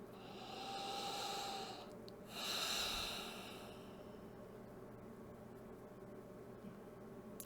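A person takes a big deep breath, a long airy inhale followed by a second stronger rush of breath, close and soft against quiet room tone, with no talking.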